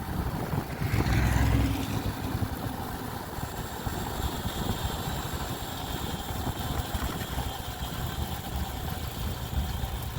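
Drag racing motorcycle launching hard with a badly slipping clutch at a drag strip, a loud sustained engine roar surging early then holding steady and droning for the rest of the pass.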